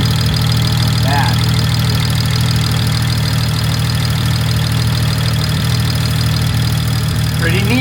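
A six-cylinder car engine idles steadily after sitting for months, a loud, even, continuous rumble close by that holds for the whole stretch, with no talk over it.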